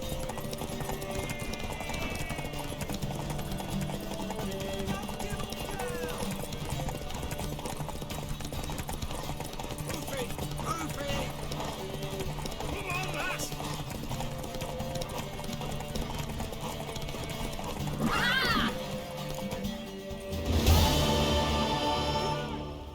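Horse hooves clip-clop steadily in The Witcher 3 game, a continuous trotting rhythm under ambient game sound with occasional whinnies and a louder burst of movement near the end, with no speech over it.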